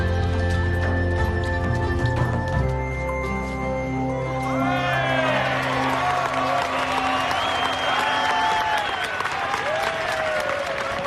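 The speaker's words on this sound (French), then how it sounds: "Ces danseuses sont vraiment extraordinaires, vous avez raison de les applaudir." Festival audience applauding dancers, a dense steady wash of clapping and cheering that swells after the first few seconds, with bright whooping voices rising over a low tonal bed at the start.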